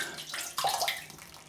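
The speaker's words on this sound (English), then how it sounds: "adding some drops of water." Drops of water are added to Proraso Wood and Spice shaving soap while a brush mixes it, giving a short, close, wet splashing and swishing burst.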